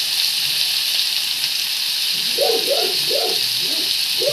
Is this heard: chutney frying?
yes